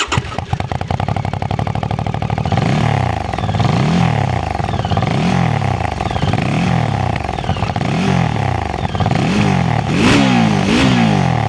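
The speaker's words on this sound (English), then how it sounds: "It definitely sounds grunty, but not loud, but it has that Italian sort of rustly purr to it." A Morbidelli C1002V motorcycle engine revs up and down repeatedly, a gruff, throaty rumble rising and falling in steady cycles, close and loud.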